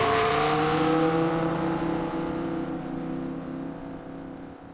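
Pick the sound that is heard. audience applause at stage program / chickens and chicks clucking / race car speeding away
race car speeding away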